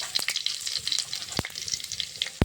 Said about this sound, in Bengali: মাছ ভাজার তেলে কিছুটা সর্ষের তেল দিয়ে দিয়েছি। ফোড়নে দেবো তেজপাতা, শুকনো লঙ্কা,